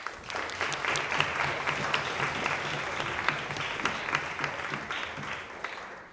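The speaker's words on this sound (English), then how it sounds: "Round of applause, come on." A room full of students at a university students' union politics event applauding steadily for several seconds, dense overlapping claps at a fairly even level, tapering slightly at the end.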